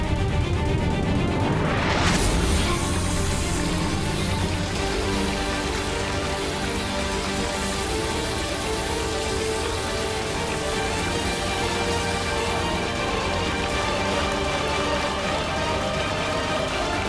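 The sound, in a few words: rain falling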